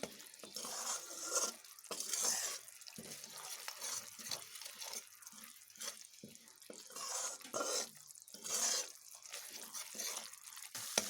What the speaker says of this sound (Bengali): বেটে রাখা মশলাটিকে এবার এখানে আমি দিয়ে নেব মশলাগুলো একটু ভালোভাবে ভেজে নেব